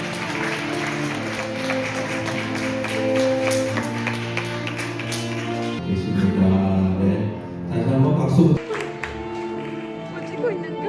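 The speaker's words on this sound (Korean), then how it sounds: "감사의 박수를 부탁합니다." Applause from a wedding crowd runs under loud music with harmonic tones, and a voice is heard partway through.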